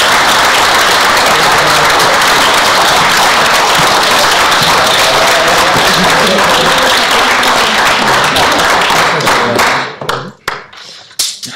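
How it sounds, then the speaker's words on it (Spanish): Dense, loud applause from a crowd at a moot court competition in Mexico fills the room, sustained for several seconds before thinning into a few scattered claps and fading out. "aplauso."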